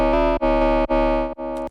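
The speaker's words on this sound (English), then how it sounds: "we're going to do that with the Scream bandpass filter right over here" A buzzy, distorted synth tone run through a Scream bandpass filter, filtered to a nasal, narrow band, sustained with a few brief dips between notes, loud and up front.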